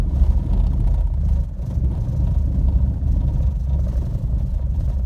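Loud, continuous low rumbling and rattling of a small car driving over a rippled dirt road, close and unbroken.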